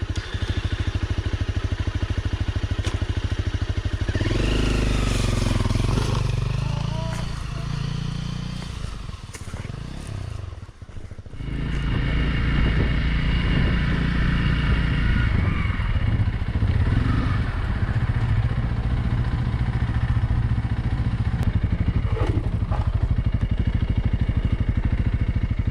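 A Honda CRF250 or CRF300L offroad motorcycle engine rumbles loudly and close throughout, revving up and dropping briefly midway before settling back into a steady running drone.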